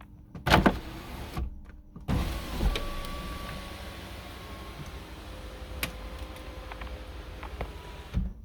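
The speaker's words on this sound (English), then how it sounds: "Power windows." Car power windows running after a footwell module is installed, with a couple of clunks, then a faint steady motor whine as the glass travels, ending in another thud; no talk.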